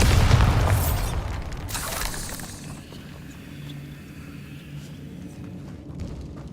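The Bombarda spell in the video game Hogwarts Legacy goes off with a heavy, booming blast and rumble that decays over a couple of seconds into a low ambient hum in a catacomb.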